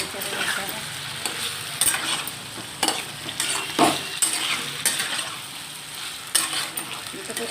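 A spoon stirs ash gourd and potato with cumin-chili paste in a frying pan, giving a steady sizzle broken by scraping strokes at an irregular rhythm, close by, with no talk.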